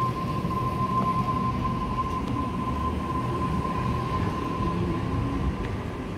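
A Red Rattler F set electric train, set F1, departs from a platform with a steady loud rumble of wheels and traction motors and a sustained whine, heard close for several seconds with no talking.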